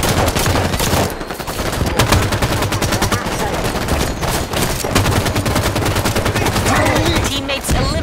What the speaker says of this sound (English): Elite firing on me.